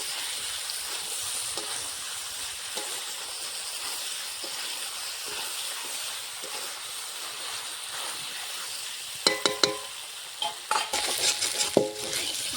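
Chicken pieces with fried potatoes being sautéed (kosha) in a pan; a soft continuous sizzle for most of the time, then several sharp metallic scraping and stirring knocks near the end.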